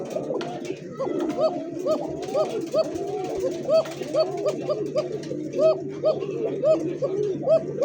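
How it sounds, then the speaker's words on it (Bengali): Pigeons cooing at a breeder's farm, a pair of male and female birds, with repeated rolling coos in a steady rhythm close by, over a low constant hum and background murmur. "মাদিরই ডাক শোনেন খালি।"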